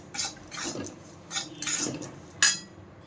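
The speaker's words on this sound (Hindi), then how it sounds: "इस सूजी को हम लोग थोड़ा पहले फ्राई कर लेंगे।" Semolina dry-frying in a pan, stirred with a metal spoon in several bursts of scraping and clinking against the pan, close and fairly quiet, with no voices.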